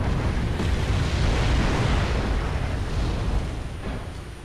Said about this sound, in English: His artillery's coming dangerously close to my dudes.